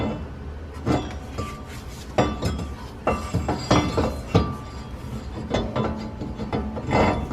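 A new rear brake rotor is set onto the hub of a 2014-2019 Kia Soul, making close metallic clinks, knocks and light scrapes at irregular intervals.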